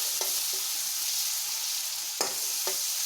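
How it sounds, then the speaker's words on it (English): Cassava paneer fries in a pan with a loud, steady sizzle, broken by a few scraping stirs of the spoon through the hot oil. "Fry it slightly"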